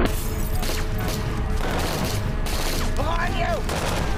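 Dense volleys of gunfire in a televised shootout scene from The Walking Dead, continuous rapid shots and booms at loud, steady level under a voice talking over them.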